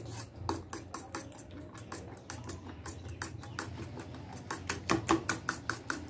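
Eggs being beaten in a bowl for a chapati omelette, a fast run of repeated light clinks and taps that grows louder toward the end, with no talk.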